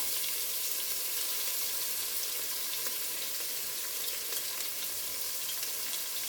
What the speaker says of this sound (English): we're just gonna add our peppers to that olive oil